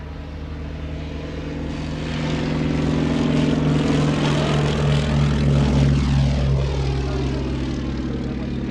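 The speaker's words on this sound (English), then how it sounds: "you will see aircraft taking off and landing a little bit out of context with the actual display itself" Propeller aircraft taking off or landing at an evening air show at Shuttleworth, a loud sustained engine drone that swells and holds as the plane passes nearby, with no talk over it.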